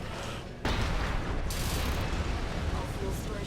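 Heavy rumbling video game explosions in Armored Core VI roar continuously, a loud sustained blast of booming noise with a sharp onset partway through.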